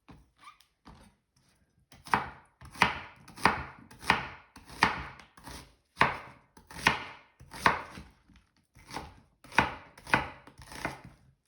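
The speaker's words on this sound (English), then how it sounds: "chunks of onions on my sandwich. So I'm just slicing vertically." Knife slicing onions vertically on a cutting board for French dip sandwiches, a steady run of about a dozen crisp chops at an even rhythm, close up with no talking.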